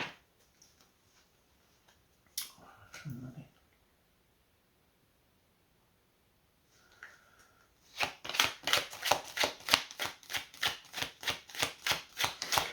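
A deck of cards is handled with a few soft, scattered rustles and taps, then shuffled in a fast, loud run of rhythmic riffling flicks near the end, close and alone without speech.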